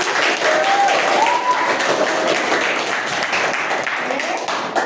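Hands clap together in steady applause throughout, with a few faint whistle-like tones near the start and the sound tapering slightly toward the end.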